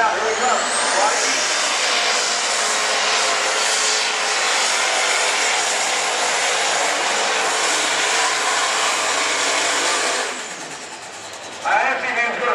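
A super stock pulling tractor roars down the track at an NTPA Grand National pull, its engine a loud, sustained blare that holds steady for about ten seconds before briefly dropping off and surging again.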